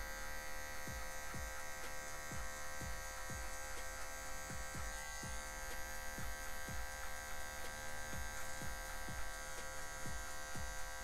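An electric hair clipper buzzes steadily while trimming hair at a 45-degree angle, with a constant motor drone and repeated soft strokes as it passes through the hair.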